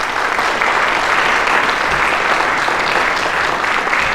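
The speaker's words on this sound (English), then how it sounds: "Let's give Shannon a round of applause." A steady, loud round of applause from an audience at a community gathering in Iowa, dense and continuous for the full few seconds with no voices over it.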